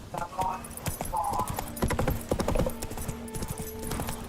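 Roach, a horse in The Witcher 3 game, gallops with quick, rhythmic hoof clops, close and fairly loud, under a man's speech and game sounds.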